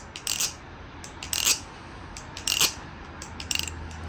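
Sharp metallic clicks and rattles come in quick clusters as a budget balisong butterfly knife is flipped, the handle snapping open and shut repeatedly with brief pauses between flips.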